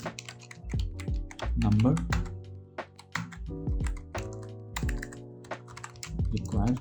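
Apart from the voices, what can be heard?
typing code on a computer keyboard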